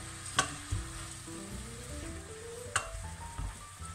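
Leftover meat from a pierrade sizzling in a pan, a steady soft frying hiss with a couple of sharp clinks of a utensil against the pan, and no talking.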